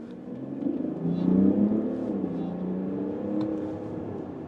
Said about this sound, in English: I like the sound of the engine, I must say. I like this diesel.